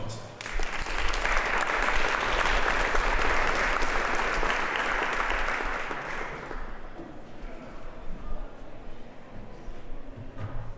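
Sustained audience applause welcomes a speaker at a ConocoPhillips IRIS seminar, swelling loud and steady for several seconds before tapering off into scattered claps and room murmur.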